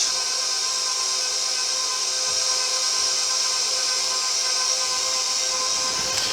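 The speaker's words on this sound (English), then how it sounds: "Then this way I don't have to do any hand kneading. I just let the mixer do it." A stand mixer kneads bread dough made with 4.5 cups of flour, giving a steady, loud motor whine and hum that stays even from start to finish, with no talking.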